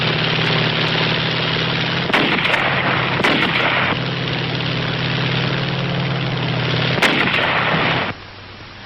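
Artillery battery guns fire on Iwo Jima in World War II archival footage, a steady roar punctuated by a few sharp blasts, loud and close, with an engine-like drone underneath.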